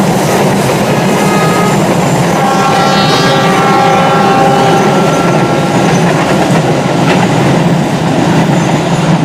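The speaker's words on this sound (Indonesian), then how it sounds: "kereta api Taksaka tambahan berpapasan dengan kereta api Joglo Semarkerto" A Taksaka passenger train passes the Joglosemarkerto train on an Indonesian railway: a loud, close, continuous roar of wheels on rails with clickety-clack and droning tonal whines rising and falling over nine seconds.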